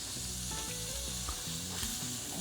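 Food sizzles loudly and continuously in a hot pan as it is flipped, with a steady close frying crackle and a few soft scrapes, no voices.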